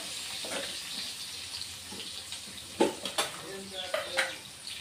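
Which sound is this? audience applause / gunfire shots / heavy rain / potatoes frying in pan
potatoes frying in pan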